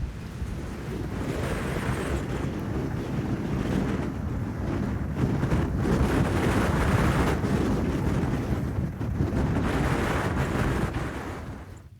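Strong wind gusts buffeting a campsite in the Loess Hills, a continuous loud roar and rumble pressing on the microphone for the whole stretch, swelling louder in the middle and fading slightly at the end, with no voices.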